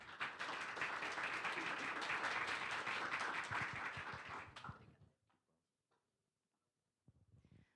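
Audience applause at the M-Share 2026 event as a speaker is invited up: a full room claps steadily and loudly for about five seconds, then it fades out, leaving near silence with faint rustles and a brief sound at the very end.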